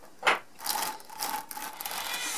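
An Ekelund drum carder's drum turns while carding a Texel/finewool blend, giving a soft continuous whirring rub with a steady low hum, close and fairly quiet, preceded by a brief brushing swish.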